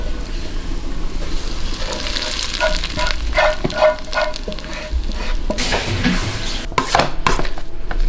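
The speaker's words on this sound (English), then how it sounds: "Now to add some sauce to the potatoes." Potatoes sizzle steadily in a pan as sauce goes in, with clattering utensils, scraping and a few metallic clinks over the continuous frying hiss in a busy kitchen.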